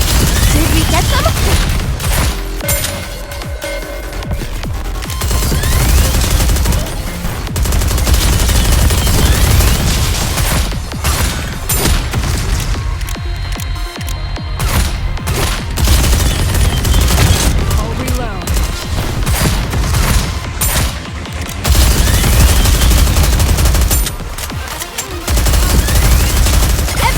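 Many guns blazing together in the NIKKE video game: dense, loud rapid-fire bursts of machine-gun fire with brief pauses between volleys, and voices talking in places.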